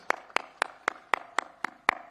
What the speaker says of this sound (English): A big applause for this one.